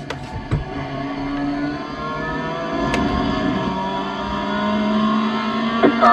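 A Mazda MX-5 race car engine drones steadily nearby on the Le Mans circuit, its tone shifting slightly as it passes alongside on the left, with a couple of sharp clicks over the hum.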